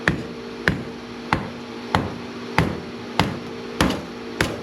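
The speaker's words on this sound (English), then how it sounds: "You just smack it with a hammer" A hammer strikes metal in a steady rhythm, eight sharp ringing blows spaced about two thirds of a second apart, close and loud.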